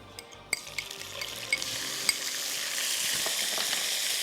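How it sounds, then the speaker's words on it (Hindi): Cumin seeds crackle and sizzle in hot oil, with a few sharp pops early on before settling into a steady frying hiss. "ज़ीरा जो है वो अच्छा सा कड़कड़ा रहा है"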